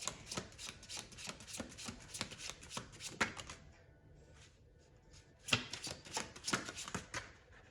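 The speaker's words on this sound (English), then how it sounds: "Keep trying to shuffle over the table because I know y'all are used to seeing me shuffle" Rapid riffling and slapping of tarot cards being shuffled close up over a table, two bursts of quick flutters with a brief quiet gap between them.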